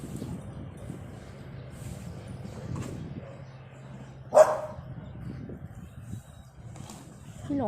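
A single sharp dog bark rings out mid-clip in a quiet indoor home, briefly standing out above soft background noise.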